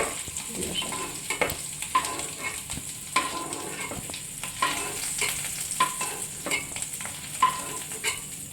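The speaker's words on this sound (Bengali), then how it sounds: "ডিম এবং আলু ভাজা হয়ে গেছে" Eggs and potatoes sizzling in a hot pan with repeated scraping and stirring strokes of a utensil, steady frying hiss throughout.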